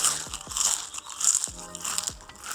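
Crunchy balado potato chips, spicy-sweet, bitten and chewed up close: several sharp, crisp crunches in a loose rhythm over about two and a half seconds, with no talk.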